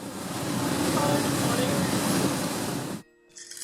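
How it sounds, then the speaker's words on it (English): A train on a short ride back to Colombo, Sri Lanka, gives a loud, steady rumble and rattle for about three seconds before the sound cuts out abruptly into near silence. "taking our bikes on a short train ride back to Colombo."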